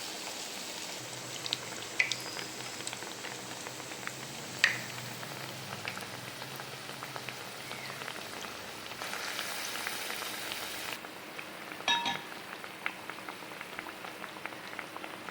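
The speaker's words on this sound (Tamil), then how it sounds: "எண்ணெய் ஊற்றி அது எண்ணெய் நல்லா காஞ்சிட்டு இப்போ நம்ம வடையை போட்டு எடுக்கணும்" Thavala vadai frying in hot oil over a medium flame, a steady close bubbling and sizzle with faint crackles and occasional small pops, no voices present.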